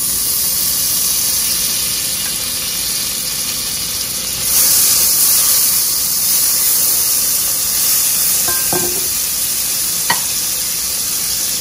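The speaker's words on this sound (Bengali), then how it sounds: "এবার সামান্য বাটার দিয়ে আমি সবজিগুলোকে একটু ভেজে নিব।" Vegetables fry in a little butter on a stove for flattened-rice pilau, giving a steady broad sizzle that grows louder partway through, with a few faint scrapes and clicks near the end.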